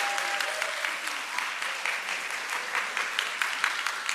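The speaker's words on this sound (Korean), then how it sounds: "우리 박수 부탁하겠습니다." Congregation applauding during a Thanksgiving intergenerational church service, a sustained, fairly soft wash of many hands clapping, with a brief tone near the start.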